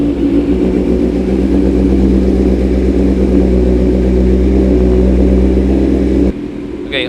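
A motorcycle engine runs loud and close at a steady idle, a dense continuous rumble, then cuts off abruptly near the end, leaving quieter background.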